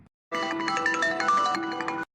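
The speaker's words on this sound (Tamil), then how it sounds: "யார் அது ஃபோன் அடிச்சுட்டே இருக்குது" A mobile phone ringtone plays alone, a bright repeating electronic melody that starts abruptly after a brief silence and rings steadily and close until it cuts off.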